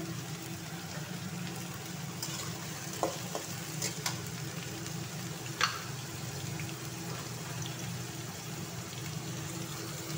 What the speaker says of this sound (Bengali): এরপরে দেবো আমি পেঁয়াজ, এরপরে দেবো আমি লঙ্কা কুচি, আলুটাও ঢেলে দেবো, এর সঙ্গে ভাজি হবে।